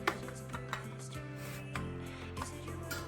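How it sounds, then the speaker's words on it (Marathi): Jowar bhakri dough patted flat by hand, giving soft irregular slaps and rubbing thumps at close range over a steady tonal hum. "हे बघा, अशा प्रकारे आपली भाकरी थापून झालेली आहे."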